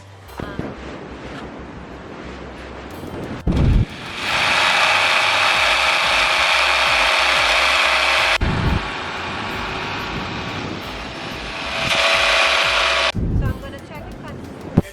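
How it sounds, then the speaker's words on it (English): Dal is ground by hand in a hand-cranked grinder, with two long stretches of harsh, steady rasping and churning, close and loud, separated by pauses with clunks and handling noises. "now we're going to grind the dal."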